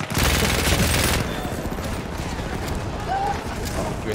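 Loud bursts of MG15 machine gun fire in Battlefield 1, a heavy rattling volley at the start easing into scattered firing and battle noise over a noisy wartime soundscape, with some talk underneath.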